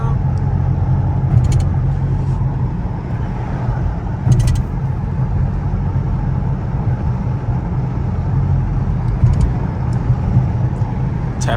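A Dodge Charger Scat Pack with a muffler delete drives at night, heard from inside the car as a steady, heavy low exhaust rumble under acceleration that holds loud and even throughout.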